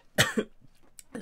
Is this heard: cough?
yes